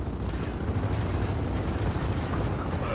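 Dense, heavy rumbling blasts in Gears of War 4 from rocket explosions, forming a loud continuous roar with thudding low-end bursts throughout and no pauses.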